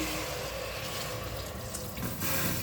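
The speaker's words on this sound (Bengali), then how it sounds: "এবার এর মধ্যে জল দিয়ে দিচ্ছি" Water poured into vegetarian Mumbai-style pav bhaji cooking in a pressure cooker, a steady broadband rush that runs the whole time at moderate level, swelling slightly near the end, with no voices.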